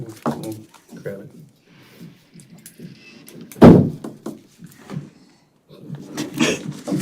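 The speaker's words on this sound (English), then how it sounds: "Close the door." An indoor door closes with a single loud thunk partway through, amid a meeting room with people talking before and after.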